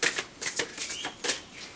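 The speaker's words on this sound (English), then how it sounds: "I'm going to go ahead and shuffle the gemstones" Healing gemstones are shuffled by hand in a few quick bursts of close, bright clattering and rattling, with short pauses between each burst.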